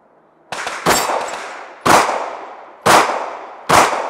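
Five loud, sharp pistol shots fired outdoors while testing a red dot sight, spaced roughly a second apart, each a close, hard crack with a short decaying tail.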